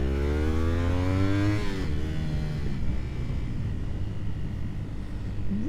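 An old Honda VT250 Spada motorcycle engine while riding, a steady close rumble that climbs in pitch as it revs, drops at a gear change, then settles into a rougher, even drone under wind noise.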